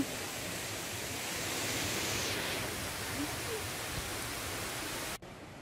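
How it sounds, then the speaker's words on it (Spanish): The second of the Seven Waterfalls roars as a steady, close wash of falling water, unbroken for about five seconds before the sound cuts off sharply. "la segunda cascada"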